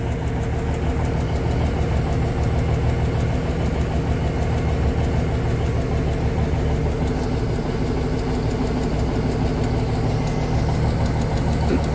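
Cummins Big Cam diesel in an 85 GMC General runs steadily at idle with a deep, knocking rumble and vibration, loud and continuous throughout with no talking.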